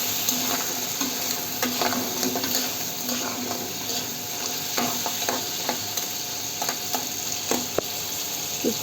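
Crab with onion and turmeric fries in a pan under a steady sizzle, with repeated scraping and tapping strokes as it is stirred.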